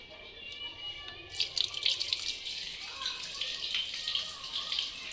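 Water runs steadily from a household tap as something is rinsed under it, a continuous splashing hiss close by with faint talk in the background.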